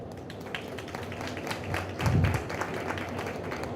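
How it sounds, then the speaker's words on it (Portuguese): Scattered audience clapping for panelists at a food-future conference, moderate and uneven, rising briefly in the middle before settling into a thinner patter. "recebe também as nossas palmas"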